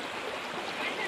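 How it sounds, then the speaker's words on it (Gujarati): Water rushes steadily at the Jamjir waterfall, a dense and continuous wash of flowing water with no clear breaks and no voices. "જમશીલનો ધોધ છે."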